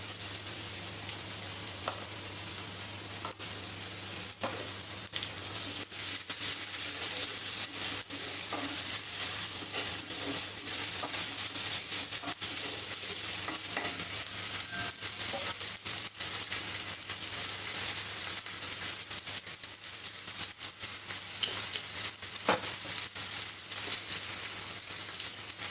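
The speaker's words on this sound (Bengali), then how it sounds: "তো এখন আমি একে একে মশলাগুলো দিয়ে দেই। আদা রসুন," Ginger, garlic, onion and spices fry in a hot pan, a steady bright sizzle running throughout with faint scraping and stirring clicks scattered on top, close by and without talk.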